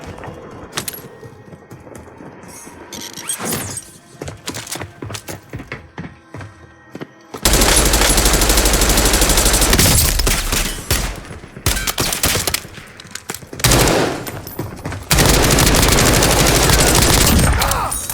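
Rapid bursts of automatic gunfire and heavy shots in the battle royale video game Call of Duty Warzone, loud and sustained in long volleys with brief gaps, after a quieter stretch of scattered game sounds.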